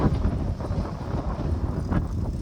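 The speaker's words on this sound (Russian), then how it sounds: "Сегодня ветер, к сожалению." Blustery wind on the Azov Sea coast at Belosarayskaya Spit buffeting the microphone, a constant low rumble and roar with gusty fluctuations and no voices.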